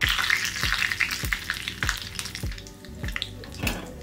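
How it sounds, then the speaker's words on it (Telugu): Cumin seeds, urad dal and dried red chillies temper in hot oil, crackling and spitting in quick, regular pops over a continuous close sizzle, with no voices. "కొంచెం జీలకర్ర, తిరగమాత వేగాలి."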